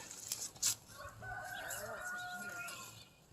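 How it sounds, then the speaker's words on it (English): Chickens pick around a garden pen, with a rooster-like crow and soft clucks over a low background hum; moderately close and fairly quiet, no talk. "the chickens are in here picking around and doing what they need to do"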